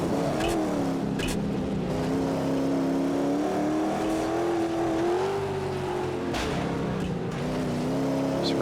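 Racing truck engines in the PS3 game MotorStorm, on a muddy off-road course, drone steadily and loudly, the pitch rising and falling as the trucks accelerate, with a couple of sharp knocks or impacts in the mix.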